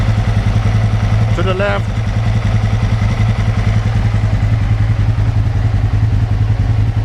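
Aprilia RSV1000R Factory engine running at idle with a loud, steady pulsing throb and a brief rising whine partway through; a person speaks briefly over it.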